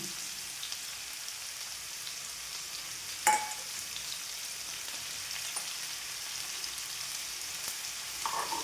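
Green chillies and curry leaves sauté gently in a pan for pork vindaloo, a soft, quiet sizzle throughout, broken once by a sharp utensil clack near the middle.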